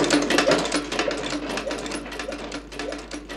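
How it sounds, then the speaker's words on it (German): A sewing machine stitches a leather shoe upper in a shoemaker's workshop, a steady rapid mechanical chatter running throughout at close range. "auf der Nähmaschine gesteppt."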